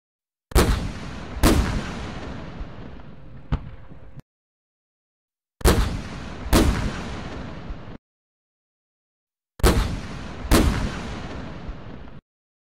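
A toy army tank cannon in a stop-motion short fires in three separated pairs of heavy booms, each pair with a double punch and a decaying rumble, separated by silence.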